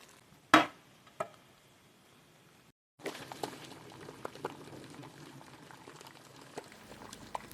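Sheep's wool simmering in a pot of water for lanolin gives a soft, quiet bubbling after a couple of sharp knocks and a brief silence, continuing faint and steady with small pops.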